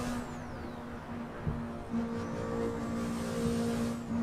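A Honda Civic EG6 race car engine in a video game hums with a steady tonal whine and shifting pitch, moderately loud with no speech.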